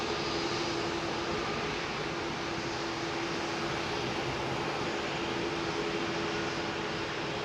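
A Vietnam Airlines airliner lands at Heathrow with a steady, loud broadband engine roar that holds evenly throughout, close and unbroken, with no voices over it.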